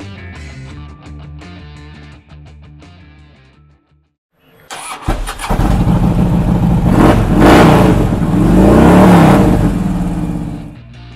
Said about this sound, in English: It's powered by a reputed and reliable 103 cubic inch V-twin engine paired with a 6-speed transmission.